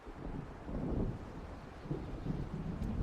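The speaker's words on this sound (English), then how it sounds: "It seems there's a storm coming." Rumbling thunder rolls across a stormy lake scene in the video game Alan Wake, a continuous low roar with wind and rain noise that swells and recedes over a few seconds, heard alone without voices.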